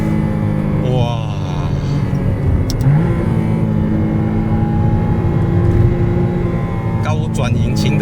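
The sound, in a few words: McLaren Artura V6 engine revving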